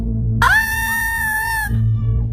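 A woman's long, piercing scream in a Hindi horror story, rising sharply and held loud for over a second before cutting off over a low background rumble.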